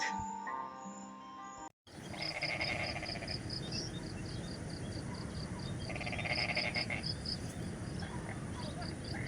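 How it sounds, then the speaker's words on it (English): A steady chorus of frogs calling after rain, with rhythmic repeated croaks over a dense wash of wet outdoor noise. "It's stopped raining now and the frogs are out."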